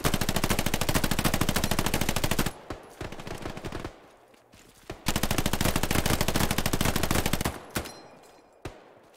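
Machine gun fire in the WWII shooter Hell Let Loose: two long, loud, rapid bursts lasting a few seconds each, separated by a short pause with scattered distant shots.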